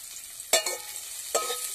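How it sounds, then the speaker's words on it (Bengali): A soft, steady sizzle of chopped onions frying in oil in a wok, broken by two sharp clatters of a utensil against the pan. "আমি পেঁয়াজটা ভালো করে ভেজে নেব"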